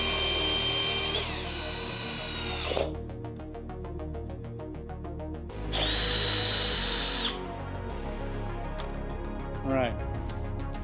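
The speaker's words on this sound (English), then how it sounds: "We do have our fender here that we just need to drill our hole." A power drill bores a hole through a Harley-Davidson Sportster Forty-Eight rear fender, with loud bursts of high whine separated by stuttering, chattering passages. Close and steady throughout, with speech underneath.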